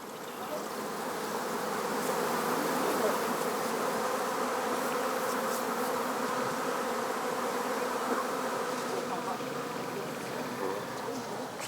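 Honey bees kept by honey sellers buzzing in a dense, continuous swarm drone, steady and moderately loud throughout, with faint voices in the background.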